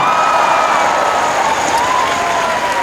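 Stadium crowd at the Zurich Diamond League athletics meeting cheers and applauds after a 400 m race, a loud, continuous wash of clapping and whistles with occasional higher shouts.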